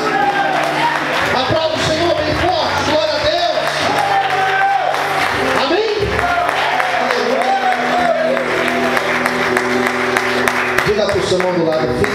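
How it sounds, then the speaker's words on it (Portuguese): Church congregation applauding during a sermon, loud continuous clapping with shouts and cheers rising through a long stretch, voices calling out over the crowd. "Você pode aplaudir o Senhor, aleluia"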